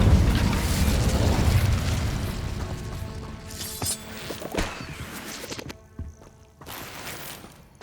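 A fiery spell blast in the game Hogwarts Legacy, a loud burst of crackling flame and booming impacts at the start that fades into rumbling debris, with a few sharp follow-up bursts and clatters.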